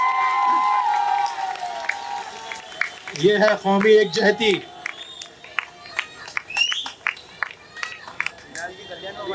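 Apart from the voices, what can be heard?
loud applause and cheering at public rally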